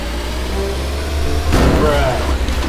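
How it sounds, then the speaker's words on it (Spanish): A car engine in the video game Teardown drones steadily at close range, then swells and strains as the vehicle drives up onto a ramp, with a loud crash-like burst partway through. "Y tenemos que hacer una rampa con el auto."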